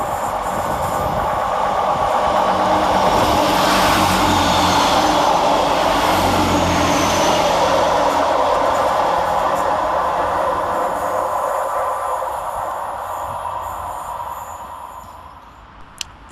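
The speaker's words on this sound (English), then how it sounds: "Running 5 minutes late for Transport for Wales is 158841 and 158833, working 1 Indigo 12 from Holyhead to Birmingham" Transport for Wales class 158 diesel units run past Smethwick station platforms on a Holyhead to Birmingham service: a loud, steady rolling rumble with wheel and engine noise that holds for most of the pass, then fades away near the end.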